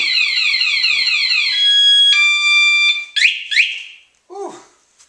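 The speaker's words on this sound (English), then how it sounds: "Alright, so the alarm works." Motorcycle alarm system sounding a loud electronic warble that shifts into steady tones, then a few short chirps, followed by a brief voice.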